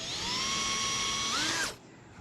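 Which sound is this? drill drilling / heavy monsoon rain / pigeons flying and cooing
drill drilling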